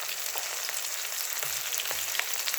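Tomato and spices frying in a pan, making a steady, close sizzle that stays even throughout with no voices.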